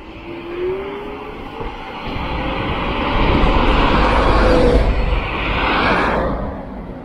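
An ODYS Alpha X3 Pro electric scooter rides down a street, a steady broadband road and wind rush that swells louder as it picks up speed, with a faint whine running through it and no talking.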